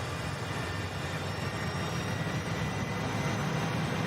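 Harrier jet engine roaring steadily during a takeoff run in Microsoft Flight Simulator, a loud, continuous broadband rush that holds even throughout with no talking.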